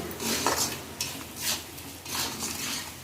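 Spices with pumpkin and potatoes are stirred and sautéed in a pan, giving repeated scraping strokes and soft clinks of a utensil over a low sizzle, close and steady.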